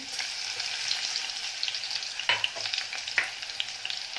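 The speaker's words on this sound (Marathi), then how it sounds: "तर तेलामध्ये हे लसण घालून घेणार आहे" Crushed garlic frying in hot oil for a spicy bitter-gourd curry, a constant crackling sizzle with a few sharper pops and stirring clatters toward the end, no voices.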